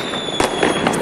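New Year's Eve fireworks in Germany, a few distant bangs and crackles rising over a steady outdoor background hum, with one sharper burst in the middle.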